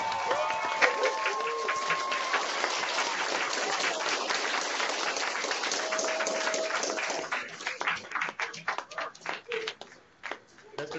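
A warm round of applause greets a Pro Football Hall of Famer, steady dense clapping mixed with crowd noise that thins into scattered, uneven claps toward the end, with voices murmuring through it.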